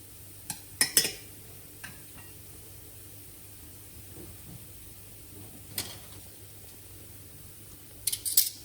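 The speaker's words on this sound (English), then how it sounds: "keep on stirring your pasta, making sure it doesn't stick together or to the bottom" Pasta is stirred in a pot with a utensil, giving sparse close clinks and scrapes against metal, a few sharp taps scattered through a quiet hum, with no talk.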